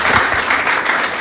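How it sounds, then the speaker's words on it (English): A panel discussion audience breaks into brief applause, a dense wash of clapping that fills the room loudly and evenly for about a second. "I think round of applause"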